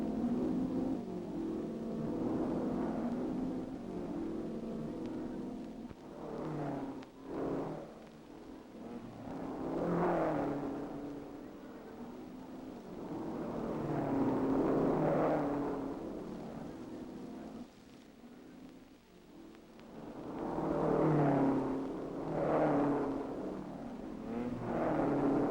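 Sports racing cars from 1964 roar through a race at the Grand Prix de Europe, engines swelling and fading in repeated passes at a moderate distance, with no talk over them.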